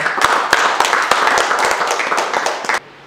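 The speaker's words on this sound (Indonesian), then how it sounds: "Tepuk tangan buat kelompok Yahanu" A class group in a school lesson gets a short round of clapping from a modest number of students, with distinct individual claps audible within the patter before it stops abruptly near the end.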